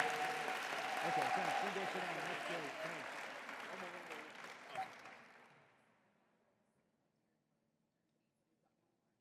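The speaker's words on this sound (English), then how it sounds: "how about a nice round of applause for these two outstanding young students?" Loud sustained applause from a crowd at a university anniversary gala, steady clapping with a few cheers, gradually fading out to near silence over the final seconds.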